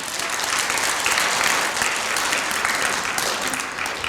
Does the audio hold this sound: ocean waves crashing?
no